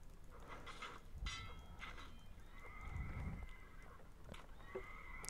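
A horse whinnies and hooves clatter in the Lord of the Rings Mount & Blade mod game, faint and distant, with a few brief clip-clop sounds amid a low, quiet battle background.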